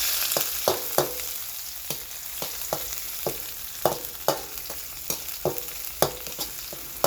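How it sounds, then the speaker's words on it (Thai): Chili and garlic sizzle while being stir-fried in hot oil, a steady close frying hiss broken by sharp, regular scrapes of a spatula against the pan, with no talking. "ผัดให้หอมกันเลยครับ"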